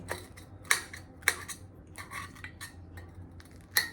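Roasted eggplant (brinjal) is cut for chutney with a utensil, producing a few sharp, faint clicks and taps against a dish in an otherwise quiet kitchen.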